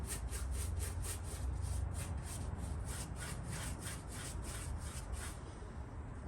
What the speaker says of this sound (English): So I can go and get rid of all that surface rust.